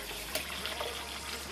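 Kitchen tap water running steadily in a light, constant hiss as cooked rice is rinsed under it, heard alone with no talking.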